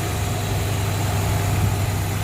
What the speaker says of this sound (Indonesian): Suara mesinnya kita gas ya. Nah, suaranya juga masih angler.